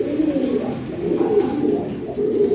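A pair of big, light-coloured fancy pigeons, Lahore type, sitting on eggs, coo continuously in deep, rolling, throaty phrases, loud and close with no talking.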